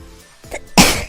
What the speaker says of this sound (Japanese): くしゃみが止まらないのかもしれない。